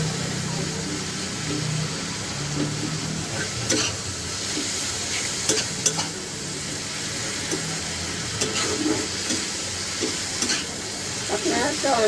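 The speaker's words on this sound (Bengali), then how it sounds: "এবার আমি এটা হালকা একটুখানি আঁচটাকে জোরে করে টমেটোটা একটু মশলাটা ভালো করে কষে নিই।" Tomatoes and spices frying over high heat for a small-fish curry, a continuous sizzle with occasional sharp spatula clicks and stirring, close and steady.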